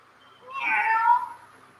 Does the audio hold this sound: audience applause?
no